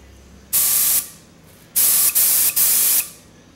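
Three bursts of hissing paint spray from an HVLP spray gun onto an old cardboard box, the first about half a second long and the next two longer, with brief gaps between trigger pulls.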